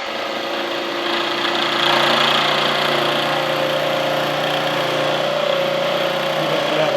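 A metal planer machine runs steadily, its motor drone and rumble holding for the whole stretch as the tool cuts across a workpiece while making a custom tool holder; loud, continuous and without talk.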